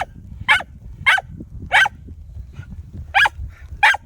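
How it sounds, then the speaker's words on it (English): A dog barks in sharp single woofs, five or six spaced irregularly, fairly close, with a low rumble of background noise between them. "And a loud dog."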